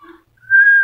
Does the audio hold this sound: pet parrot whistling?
yes